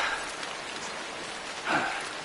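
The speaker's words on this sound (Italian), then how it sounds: "Tanto ringrazio la pioggia che mi ha distrutto tutto il carico." Steady rain hisses and patters in the video game Death Stranding, a dense even wash with a brief swell of louder drops near the end, with no voices.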